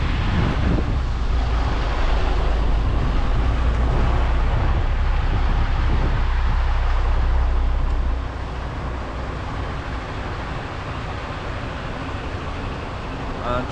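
A lorry manoeuvring into a tight loading bay between two trucks at night in Rugby, its steady low engine rumble close and continuous, easing slightly partway through.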